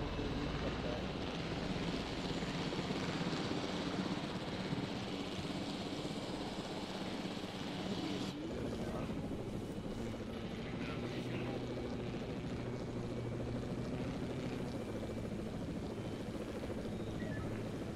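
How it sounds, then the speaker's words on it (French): Helicopter in the video game Jurassic World Evolution, a steady whirring rotor drone that runs continuously throughout, fairly loud, with a faint voice beneath it. "Vous avez le choix de contrôler l'hélicoptère."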